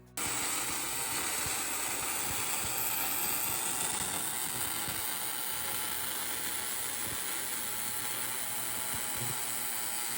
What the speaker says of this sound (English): that's exactly how good welding should sound.